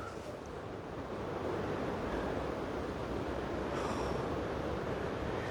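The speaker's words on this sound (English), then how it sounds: "Oh, the sound of the waves again." Steady roar of ocean surf washing in at Ilfracombe, North Devon, continuous and fairly loud with a windy hiss, no voices.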